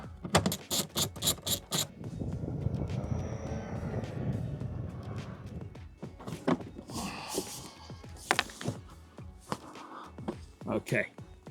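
A nut being turned on the boot hinge of a Range Rover Evoque, with a series of close mechanical clicks and ratchet-like ticks, followed by brief knocks and thunks, amid shuffling.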